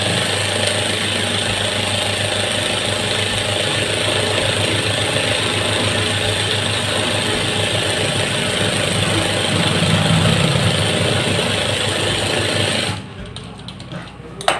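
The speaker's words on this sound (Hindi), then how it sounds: "तो मैं इसको ऊंधी तरफ सीधी सिलाई लगाऊंगा।" A sewing machine stitches a straight seam on the reverse side of a shirt front, running in a steady, continuous whirring hum for about thirteen seconds before stopping abruptly, with a brief clunk at the very end.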